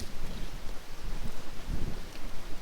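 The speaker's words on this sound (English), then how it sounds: "Whoa, kind of windy, nice breeze here." Wind gusting outdoors on a breezy day in Greece, buffeting the microphone with loud rushing, uneven roars that swell and drop repeatedly across the clip, no voices.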